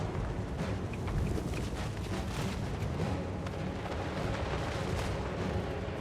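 In a Total War: Warhammer 3 battle, gunpowder gunners loose a volley, a dense rolling stretch of booming artillery-like gunfire and blasts that carries on without a pause and with no talk.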